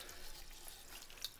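A poultry water fount is dunked into water, giving a short splashy, running-water wash with a small bubbly pop near the end.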